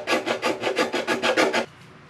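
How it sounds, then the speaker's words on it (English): A round hand file rasping down a plastic radiator extension cover on a 2020 Ford Mustang EcoBoost HPP: about eleven quick, even back-and-forth strokes, close and fairly loud, then stopping abruptly. "I just got like a round file here, and I'm just going to kind of just grind down this part here."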